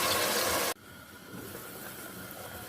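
Water pours into a pot of fried chickpeas being cooked for white chana pulao, a loud rushing splash for under a second that cuts off abruptly, leaving a quieter bubbling hiss.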